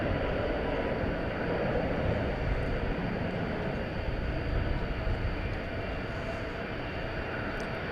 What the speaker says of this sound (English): Looks like there's about 8 to 10 planes stacked up. So you will hear them.